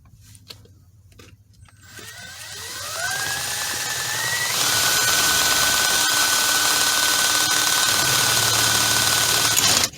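An electric drill making a hole in a Toyota Sienna spins up from quiet, its whine rising in pitch and then holding a steady, loud drone until the end.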